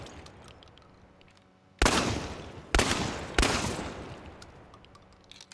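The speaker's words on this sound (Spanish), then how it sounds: "no quería disparar la escopeta" Shotgun blasts in the Chernobylite video game: three loud, sharp reports in fairly quick succession, each with a decaying tail, after a quieter stretch of low ambient noise.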